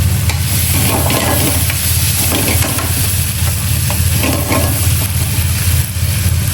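Anchovies melting in a hot pan for spaghetti alla puttanesca crackle and sizzle loudly and steadily up close, with a constant frying hiss and faint stirring underneath.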